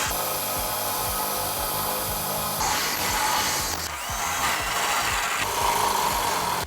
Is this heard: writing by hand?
no